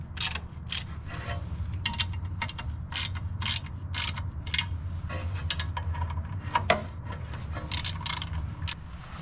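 Flywheel bolts on a G35 lightweight flywheel and clutch install are threaded in by hand, giving close, rapid ratcheting clicks and small metallic ticks in irregular bursts with no talking.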